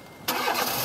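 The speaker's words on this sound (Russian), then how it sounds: "запуск двигателя." A 2014 Nissan Almera G15 with a 1.6-litre 16-valve K4M petrol engine starts after a moment of silence: a sudden catch, then a steady, close, even running rumble.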